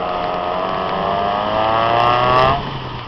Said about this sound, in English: I think you might have to start the engine